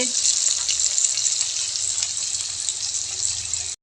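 Cauliflower fries in a pan with turmeric and salt, making a steady, bright, close sizzle that holds evenly throughout and then stops abruptly at the end.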